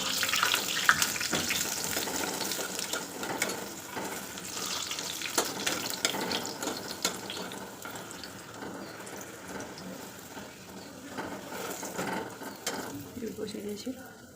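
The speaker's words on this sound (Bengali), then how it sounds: "আর একটা পুরি বসিয়ে দিলাম। তো এরকম করে ধীরে ধীরে পুরিগুলো ভেজে নিতে হবে" Green spinach puri deep-frying in hot oil, a steady broadband sizzle and bubbling that holds throughout, fairly close and continuous with slight swells as the dough puffs.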